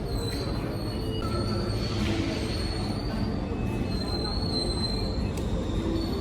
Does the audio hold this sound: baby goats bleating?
no